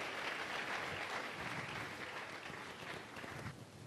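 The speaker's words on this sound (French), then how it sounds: "Nous pouvons acclamer très fort" Sustained, dense applause from a church congregation during a sermon, loud and steady throughout with no pauses.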